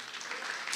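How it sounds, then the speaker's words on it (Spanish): Church congregation clapping for the Lord during a Spanish-language sermon, a short burst of dense, steady applause at moderate volume with no voices over it. "¿Alguien puede darle un aplauso al Señor?"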